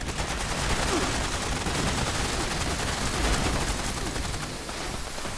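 Sustained automatic gunfire aimed at turrets in Fallout 76, a dense unbroken stream of rapid shots that stays loud and close for several seconds before easing slightly at the end.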